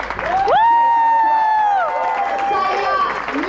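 Wedding guests at a traditional French wedding at a chateau cheer and clap. A loud, sustained whoop rises above the crowd noise and applause.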